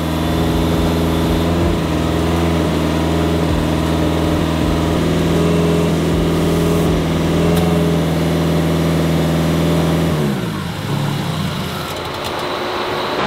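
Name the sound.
STI-swapped Subaru WRX engine idling and stalling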